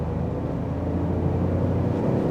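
A Tata Tiago's engine pulling in second gear, a steady low drone and rumble heard from inside the car, continuous and fairly loud with no talking.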